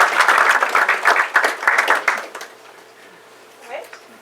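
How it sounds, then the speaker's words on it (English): A loud, dense round of applause for the hosts at a community gathering fills the first two seconds, then fades quickly, leaving a quiet room with a faint voice near the end. "I want a round of applause for our hosts here."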